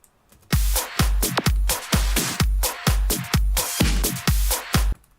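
A looped drum pattern plays back in Ableton Live, loud and steady, with punchy kicks and bright cymbal-heavy hits repeating in an even rhythm for about ten beats, alone with no talking.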